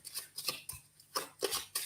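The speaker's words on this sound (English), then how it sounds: "Have to keep shuffling, I am afraid." Lenormand cards being shuffled by hand, a series of brisk papery swishes and riffles in quick bursts, fairly close and with no talking.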